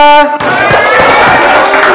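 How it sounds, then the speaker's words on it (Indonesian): After a brief voice, a classroom of students erupts in loud, dense clapping for group 2, a steady close burst of many hands that carries on to the end. "Ayo tepuk tangan untuk kelompok 2"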